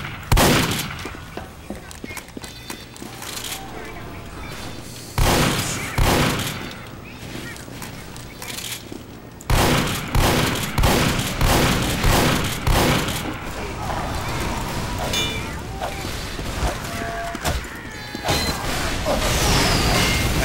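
Rapid automatic sentry gunfire from the video game Team Fortress 2 rattles in loud repeated bursts amid other game noise and clatter, with a player talking over parts of it.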